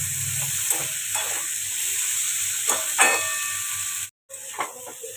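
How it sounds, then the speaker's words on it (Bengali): Dried chillies and bay leaves crackling in hot oil while cooking: a steady, close sizzle and hiss runs throughout, with scattered pops and stirring scrapes and one brief break near the end. "শুকনো লঙ্কা তেজপাতা দেবো, এটা চড়বড় করেছে।"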